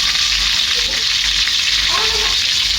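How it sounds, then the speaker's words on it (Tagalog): Tilapia frying in a pan of hot oil, a loud, dense, continuous sizzle and crackle filling the whole stretch, close and steady with no speech. "Nagprito ako ng isda."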